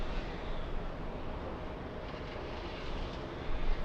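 An airliner takes off from the north side of a distant airport, bound for Portland, heard as a steady, broad, far-off roar that swells slightly at the end.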